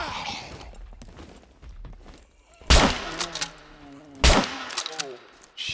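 Gunfire in the survival shooter SCUM at a WW2 bunker: two sharp, loud shots about a second and a half apart, each ringing out over a quieter stretch with scattered mechanical noise.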